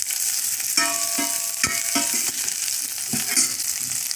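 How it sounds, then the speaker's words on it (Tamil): Green chillies fry in a pan after onions for a cabbage sodhi, giving a loud continuous close sizzle with a few crisp pops and stirring scrapes. "இப்போ நம்ம மிளகாயை சேர்த்துருங்க. இது ஒரு 1 நிமிஷம் அப்படியே வதங்கட்டுங்க."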